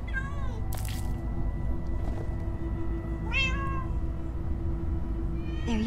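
Several short cat meows from Minecraft: Story Mode, with an electronic game quality, spaced apart over a steady low hum, fairly close and clear.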